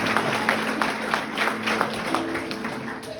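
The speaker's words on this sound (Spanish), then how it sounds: "un aplauso a la hermana Dalila" A church congregation gives a round of applause for a sister after a sermon remark, moderately loud scattered clapping beneath a low sustained hum.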